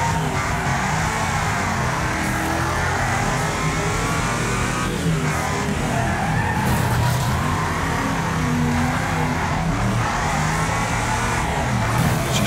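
Race car engine in the Wreckfest video game, loud and steady with revving surges and tyre skids throughout, no talking.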